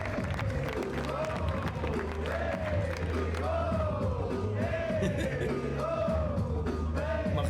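A large crowd applauds and cheers steadily at a charity football match between OM and UNICEF, a dense continuous roar with yells, while a loud voice calls out over the top.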